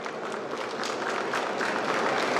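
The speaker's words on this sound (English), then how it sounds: "please join me in a heartfelt round of applause to celebrate this unforgettable milestone" An audience applauds steadily at the inauguration ceremony of a school amphitheater, a dense, even wash of clapping throughout.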